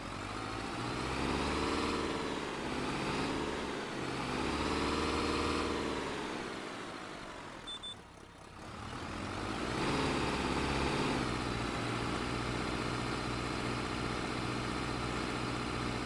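A tractor engine idles in Farming Simulator 25, a steady mid-pitched drone with a slight swell and dip midway, loud and close, running alone without talk.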